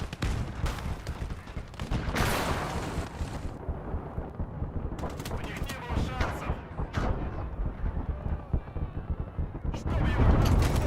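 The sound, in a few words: KV-2 tank cannon firing in a video game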